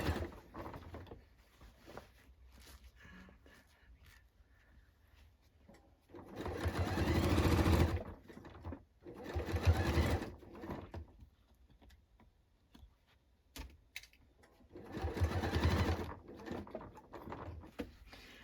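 A sewing machine runs along a denim jacket seam in three separate bursts of several seconds each, loud and close, with quieter pauses and fabric handling in between.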